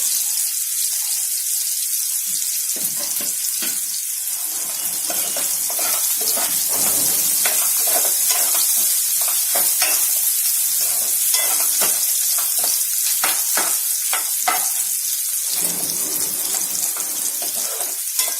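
Chopped onions frying in a pan give a constant loud, hissing sizzle, broken by clusters of quick stirring clicks and scrapes that come and go.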